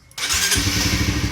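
A Honda CBR motorcycle with no kickstarter is electric-started: a brief silence, then the engine catches and settles into a loud, steady close-up idle rumble.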